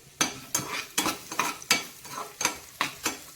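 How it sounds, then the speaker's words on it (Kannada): Onion and curry leaves frying in oil in a pan, stirred with about nine evenly spaced scrapes of a metal spoon over a soft sizzle, close and clear. "ಕೆಂಪಗಾಗೋ ರೀತಿ ಫ್ರೈ ಮಾಡ್ಕೊಳ್ಳೋಣ"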